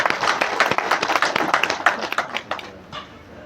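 A seminar audience claps and applauds, a dense run of hand claps that is fairly loud at first and then thins and fades toward the end.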